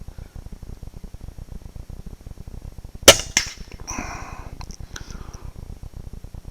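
A rifle shot at a target outdoors at about 50 yards through grass, a single sharp crack followed by a second smaller report and faint echo over steady low background noise.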